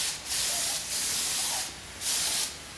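Majic Paint goes on as a very light tack coat from a spray gun, in three short bursts of hissing spray, each about half a second long, with brief pauses between them.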